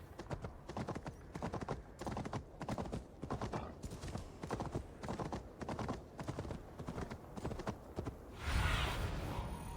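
Horse hooves gallop in rapid, steady clip-clop beats in Assassin's Creed Valhalla, loud and close throughout, ending with a heavier thud near the end; no speech.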